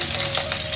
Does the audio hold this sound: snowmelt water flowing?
no